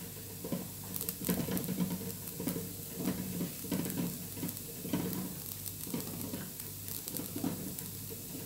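Small stuffed dough rounds cooking in a lightly oiled frying pan, a steady soft sizzle and patter running throughout with faint pops, close and fairly quiet, no talking.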